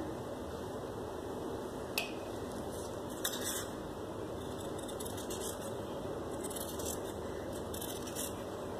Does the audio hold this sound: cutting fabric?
yes